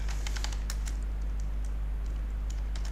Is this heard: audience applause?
no